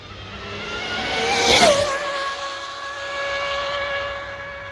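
An Arrma Infraction/Limitless RC car on a high-speed run with a Castle XLX2 system and 1717 1650kv motor makes a high, whining electric scream that swells loud as it passes close, then fades into a steady fading whine.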